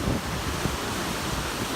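Ocean waves washing onto a shore at high water, a continuous broad rushing surf mixed with gusty wind buffeting the microphone.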